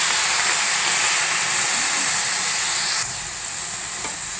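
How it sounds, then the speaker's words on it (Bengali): Spinach greens set to boil in a pot on the stove, heard as a loud, steady hiss of steam and heat that runs unbroken from start to finish. "এখন আমি শাকগুলো সিদ্ধ করতে দিয়ে দেব।"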